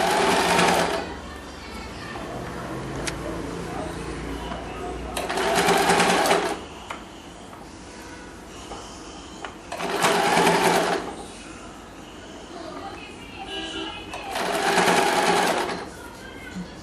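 A sewing machine stitches lehenga fabric in four loud, fast whirring bursts, each a second or two long. Talking fills the quieter stretches between the bursts.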